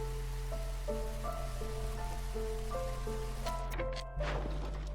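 Soft drizzle in Against the Storm hisses steadily and faintly under a gentle melodic game tune with a low hum beneath it. A brief shift in the ambience comes near the end.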